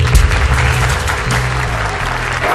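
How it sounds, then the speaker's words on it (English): An audience applauds for Simon in a theatre during a UK sea patrol training session, a steady wash of clapping with a deep low rumble beneath, continuous for a couple of seconds. "Simon even gets a clap."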